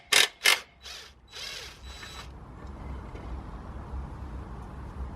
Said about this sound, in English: removing the 2 nuts for the engine mount